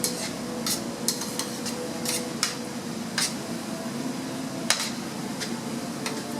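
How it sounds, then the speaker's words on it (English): Pasta is stirred with butter sauce in a hot pan. A soft steady sizzle runs underneath while a utensil scrapes and clicks against the pan at irregular moments, close and moderately loud. "As long as we keep that heat nice and regulated and not let that butter melt into just liquid, it's going to emulsify and really coat that pasta"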